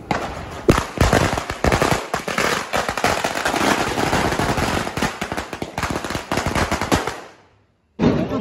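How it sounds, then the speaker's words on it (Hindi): A long string of firecrackers set alight for Diwali crackles in rapid, loud bursts, popping continuously for about seven seconds before stopping, then one more sharp burst at the end. "ये लड़ी में आग लगा दी।"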